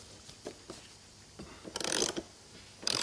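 A socket ratchet unscrews a screw from a KTM 690 frame, giving a few faint, quick clicking strokes and then a louder burst of rapid ratcheting close by, with a final click at the end.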